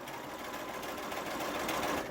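A sewing machine runs continuously along the edge of a fabric mask, a steady close mechanical whirr with no pauses.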